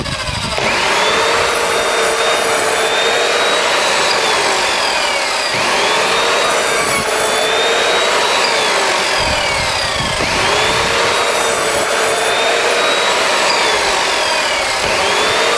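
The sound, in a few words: sawing a series of vertical cuts in wood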